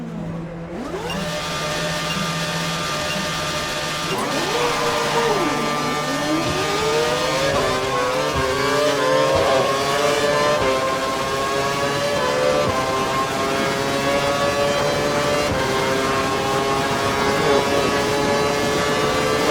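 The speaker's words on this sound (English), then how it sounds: "I want you to use both your KERS and DRS to try and overtake them before you cross the finish line up ahead." An F1 race car in the F1 2012 video game accelerates hard and overtakes with KERS and DRS. Its loud, continuous high-pitched engine whine climbs through the gears, and the pitch sweeps of another car being passed sound over it, with no talking.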